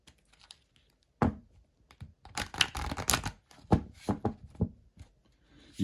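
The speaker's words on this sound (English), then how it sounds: "A nice good shuffle on it." Quick riffling and tapping of a deck of cardstock oracle cards being shuffled, a few bursts of crisp flutters and clicks up close, no voices.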